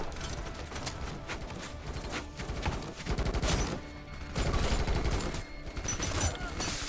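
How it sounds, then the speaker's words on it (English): Sustained loud automatic gunfire and shooting at ghosts in the video game Kinki Spiritual Affairs Bureau, dense rattling bursts swelling and dipping with mechanical clatter throughout. "We're shooting at the ghosts."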